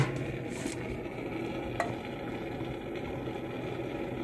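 Tempering of chana dal, urad dal, mustard seeds, cumin, curry leaves and dried red chillies sizzles steadily in hot oil in a pan, a soft even frying hiss with a brief clink of a utensil partway through.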